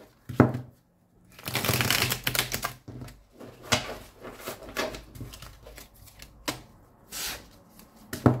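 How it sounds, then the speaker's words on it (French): Two decks of tarot cards being shuffled by hand, bursts of riffling and flicking card noise in close, quick clusters with short pauses between, no talking. "Je vais battre un petit peu les cartes quand même des deux jeux."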